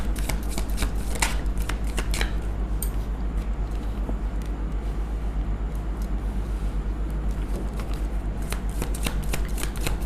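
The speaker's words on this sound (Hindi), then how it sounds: "शफल तो कर लूँ मैं।" Continuous riffling and shuffling of tarot cards, a steady papery rustle with crisp flicks near the start and end, close and even, heard alone over a low hum.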